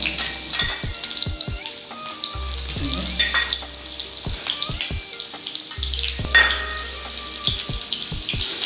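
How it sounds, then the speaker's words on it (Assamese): Onions sizzle and fry in hot oil in a home kitchen, giving a steady close crackle with scattered clinks and stirring knocks and no talk. "তেল গৰম হৈ গ'ল পিঁয়াজটো আমি দি লওঁ"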